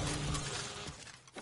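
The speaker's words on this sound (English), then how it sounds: "let me break this truck first" A truck being smashed apart in Fortnite, with a loud, dense shattering crash of breaking debris that stays strong through most of the moment and then fades near the end, with no talk.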